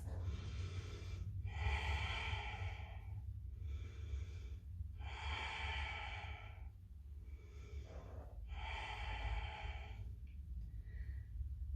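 Slow, deep breaths during a yoga pose, several audible inhales and exhales in a steady rhythm, heard close over a low background hum.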